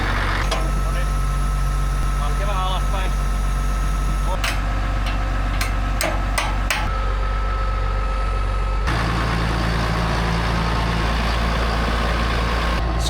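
A car engine idles with a steady, loud low rumble throughout, with a brief burst of clattering and shifting midway and voices talking over it.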